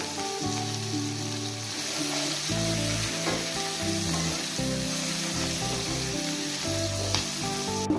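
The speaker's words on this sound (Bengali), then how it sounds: "পেঁয়াজ আর ক্যাপসিকামটা আমি সতে করে নেব সামান্য একটু নুন দিয়ে দেবো" Onion and capsicum sautéing in a pan with a little salt make a continuous, fairly soft sizzle that holds steady throughout, with music playing faintly underneath.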